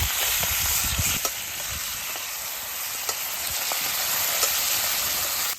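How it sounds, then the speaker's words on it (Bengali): Fresh pond fish fries in a pan at an outdoor spot, giving a steady, close sizzle with small pops and crackles scattered throughout. "মাছটিও খুব সুন্দর ভাজি হচ্ছে না?"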